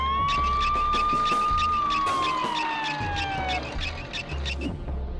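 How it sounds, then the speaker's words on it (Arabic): A wailing ambulance siren in the video game Roblox holds a high tone, then slides downward, with rapid clicks and taps sounding around it. "هاي سيارة الإسعاف، تعالوا بسرعة"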